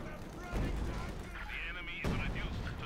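Gunfire from a Sturm Panzer in the strategy game Company of Heroes 2, heavy battle blasts and rumbling impacts under a caster's continuous commentary, with a sharp report near the end.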